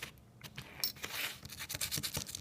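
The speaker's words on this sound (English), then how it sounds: "You take your nylon brush. Just give it a good scrub down with that solvent on there" A nylon brush scrubs a small handgun part wet with solvent, making quiet, quick scratchy rubbing strokes in an irregular rhythm, close up with no voices.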